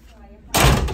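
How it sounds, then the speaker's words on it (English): A hotel room door at a Fairfield Inn & Suites in Richmond Hill, Georgia swings shut with a single loud, close thud after a quiet moment. "First come in, show you the door."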